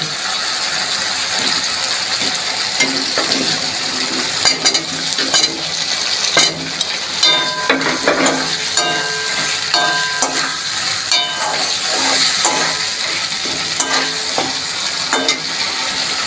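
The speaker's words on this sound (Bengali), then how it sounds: "সুন্দরভাবে কষানো হয়ে গিয়েছে আমি এর মধ্যে ভেজে রাখা আলুগুলো দিয়ে দিচ্ছি" Fried potatoes being stirred into a spiced boal fish curry in a pan, a loud continuous sizzle with repeated scraping and clattering of the spoon throughout.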